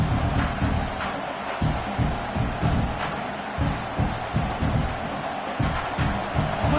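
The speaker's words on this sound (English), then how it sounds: "Listen to the crowd energy here in the early going." A large stadium crowd at a sports game roars in a continuous wash of noise, with rhythmic low thumps and swells of cheering throughout.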